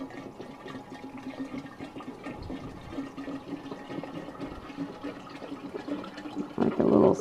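Thirty-two ounces of rubbing alcohol pour into a mix with oil for tanning snake skins, giving a steady, soft liquid gurgle that swells louder near the end.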